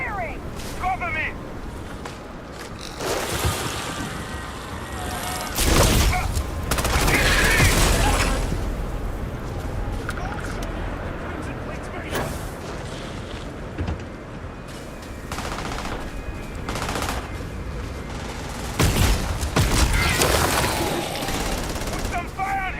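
Heavy video game gunfire in bursts and sustained automatic volleys, loud and close, mixed with explosions and shouted voices over about twenty seconds.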